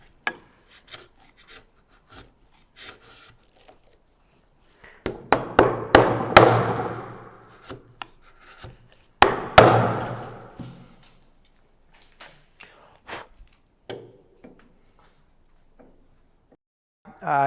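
A bench chisel pares wood inside a through mortise cut in a wooden leg, giving short scraping and rasping strokes in bursts, some louder and closer, separated by quiet pauses and light knocks.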